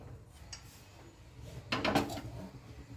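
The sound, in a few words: wok (kadai) being placed on the stove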